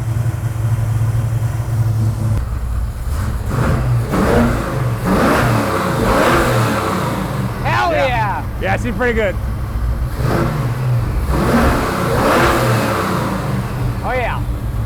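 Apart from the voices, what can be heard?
muscle car engine revving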